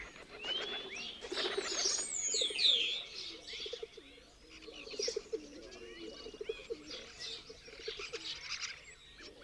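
Pigeons at a pigeon loft in Villafafila, Spain, coo steadily while other birds chirp and call in a busy outdoor chorus, moderately distant and fairly faint.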